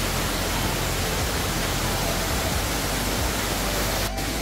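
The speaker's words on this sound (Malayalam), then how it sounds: "എന്താ വെള്ളം ഒഴുകി പോകുന്നുണ്ടോ" Rushing water at Areekkal waterfalls near Pampakuda, Kerala, a dense, steady broadband roar that fills the whole stretch without letup, close and loud.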